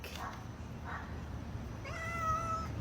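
A cat in a chicken coop lets out a couple of soft short meows, then a longer, clearer meow near the end, over low background hum.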